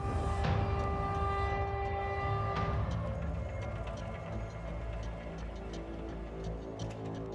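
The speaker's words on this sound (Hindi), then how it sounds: "रेलवे ट्रैक पर धड़धड़ाती हुई ट्रेन तूफानी रफ्तार से दौड़ती चली आ रही है।" Train racing along a railway track, its horn sounding loud and sustained at first, then a rumbling, clattering run of wheels on rails that continues steadily, with no talk.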